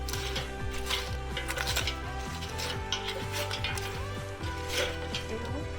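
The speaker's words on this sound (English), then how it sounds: "she's gonna go ahead and use a fork and kind of move them around a little bit" A fork moves French fries around in an air fryer basket, producing rapid small metallic scrapes and clicks over the steady hum of the running fryer fan, close and moderately quiet.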